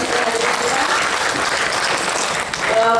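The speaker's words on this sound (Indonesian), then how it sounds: "aplaus untuk Bapak narasumber" An audience at an August 2023 seminar on job analysis and workload applauds a speaker, a dense, sustained clapping that fills the room at a steady, loud level for the whole stretch, with a faint voice surfacing near the end.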